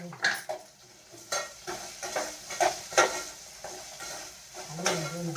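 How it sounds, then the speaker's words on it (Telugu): Semiya upma is stirred in a cooking pan with a metal spoon, giving repeated close scraping and clinking strokes at an uneven rhythm over a soft background sizzle. "అది కలుపు."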